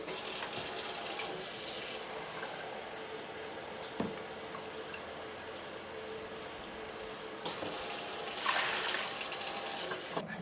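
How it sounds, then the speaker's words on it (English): Tap water gushing steadily into a pot of lentils, about six cups poured in; a loud continuous splashing rush that swells, eases slightly midway, then surges again near the end, alone without talk. "I'm going to add about 6 cups of water to this."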